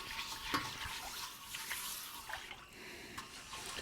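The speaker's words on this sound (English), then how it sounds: "get you some water in here. We're going to kind of get that boiling. And we're just going to scrub it clean." A wok on a RecTec Matador outdoor wok-style cooker is scrubbed clean in boiling water, making a steady hiss and bubbling with quiet, repeated scraping strokes.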